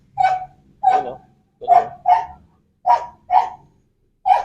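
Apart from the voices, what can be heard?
dog whining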